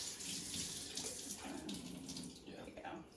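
Warm water runs from a kitchen tap into a sink while peanut sesame noodles are being made, a close, continuous hissing stream that eases slightly toward the end.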